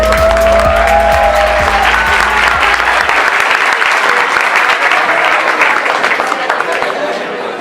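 An audience at a science talk on life on other planets breaks into loud, sustained applause, a dense crowd clapping that swells and then slowly thins as it goes on.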